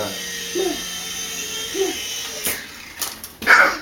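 A small RC toy helicopter flies indoors, giving off a steady, thin electric whine with a low hum beneath it. A voice briefly speaks over it, and a few sharp knocks and a bump follow near the end.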